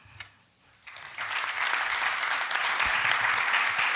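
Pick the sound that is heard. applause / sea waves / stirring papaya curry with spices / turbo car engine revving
applause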